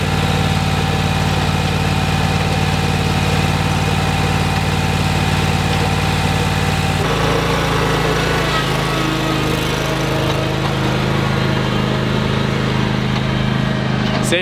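A Scag V Ride 2 stand-on mower's engine runs steadily, loud and close, with a constant droning hum that shifts pitch slightly partway through.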